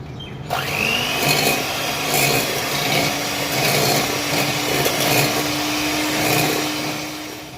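An electric beater whirs at medium speed, mixing butter and jaggery powder for wheat cookies in a kitchen. A steady motor hum holds throughout with scraping bursts as the beaters work the mixture, and no one speaks.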